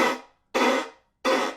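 Three raspy, percussive fiddle chop strokes, evenly spaced, each a short scratchy burst that fades quickly, played alone and close.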